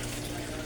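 Water runs from a tap at a small home garden spot, a brief, steady hiss of flowing water at moderate volume.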